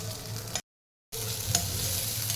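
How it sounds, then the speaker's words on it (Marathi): Steady hiss and crackle of chickpea-lentil vadas frying in hot oil, broken by a short silent gap, with a faint stirring scrape. "तेलावर मस्त परतून घेऊया"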